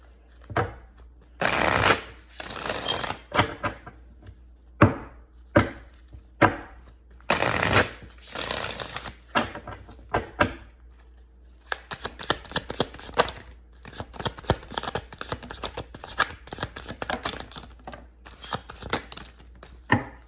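Tarot cards are shuffled close by, first in several separate crisp riffling bursts, then in a longer, nearly continuous stretch of rapid card flutter.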